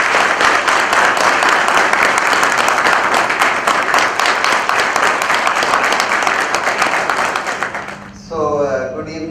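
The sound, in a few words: applause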